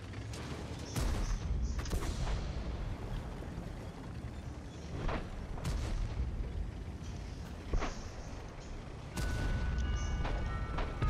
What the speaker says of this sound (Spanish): Tres tiros al Conqueror, ninguno le ha dado